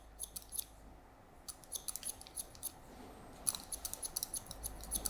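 Scissors snip through hair in quick, crisp clusters of cuts during a taper haircut, close and quiet, with short pauses between bursts of snipping.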